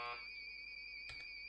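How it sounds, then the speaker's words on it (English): A game show buzzer being tested on a Star Trek trivia game show sounds as a steady electronic tone that runs unbroken for the whole second and a half. Two brief knocks come near the end. "You keep testing that buzzer. Make sure it's working."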